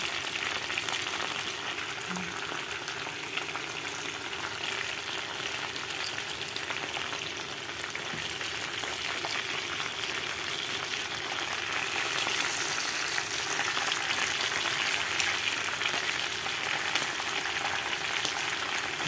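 Chicken pieces fry in their own rendered fat in a pan for adobo, giving a dense, continuous sizzle and crackle at steady loudness throughout, with no talking.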